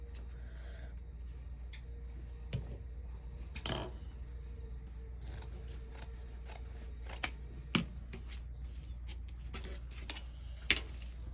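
Scissors trim excess mesh on a summer wreath, a scattered series of crisp snips and clicks close up over a quiet room hum.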